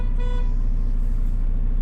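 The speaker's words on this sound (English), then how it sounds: "City horn." A truck's city horn sounds in a short, steady toot near the start, over a constant low engine rumble that continues after it stops.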